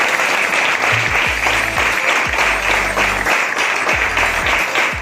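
An audience at a hotel gathering in Mirzapur breaks into loud, sustained applause, many hands clapping in a dense continuous roar, with brief voices or whoops rising underneath.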